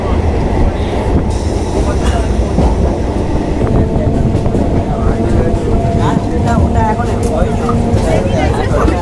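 Namkhana local train rolling along the rails toward Namkhana station, with a steady loud rumble, rhythmic wheel clatter and carriage rattle throughout; people talk faintly inside the carriage.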